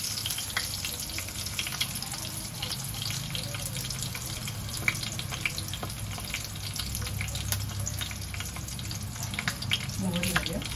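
Curry leaves and crushed garlic go into hot oil in a pan, producing a soft, steady sizzle and crackle with a few light clinks and scraping sounds throughout.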